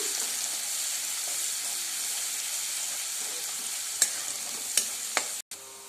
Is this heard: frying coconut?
yes